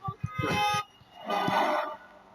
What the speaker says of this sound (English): people right now, they're honking their horns in solidarity